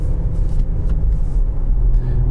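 A car engine rumbles loudly and steadily up close, a deep, continuous roar with no voices.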